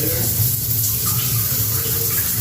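Steady hiss of running shower water in a hotel bathroom, close and continuous, with no breaks.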